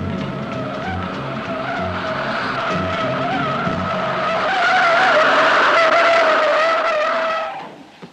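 A car in a 1960s Italian spy film accelerates hard with a sustained, loud tire squeal and engine strain, holding steady for several seconds before cutting off abruptly near the end.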